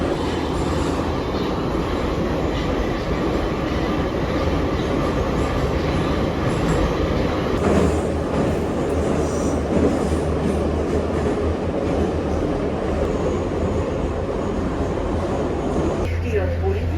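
Metro train running, a loud continuous rumble of wheels and carriage noise with faint squeals, and brief muffled voices in the carriage.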